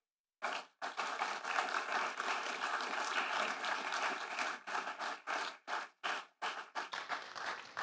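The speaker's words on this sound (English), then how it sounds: "Big warm round of applause." Audience claps for an author after an evening talk. The applause starts from silence, holds as a dense, lively sound for several seconds, then breaks into scattered bursts as it tapers off.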